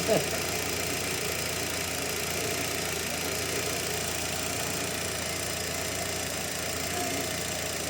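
A Fiat Tempra 1.6 MPI engine idling with its injectors running, a steady close mechanical hum and faint ticking that holds evenly throughout after a brief bump at the start.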